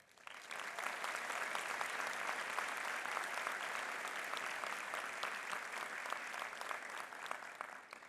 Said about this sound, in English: I invite you to warmly applaud this class as we cherish this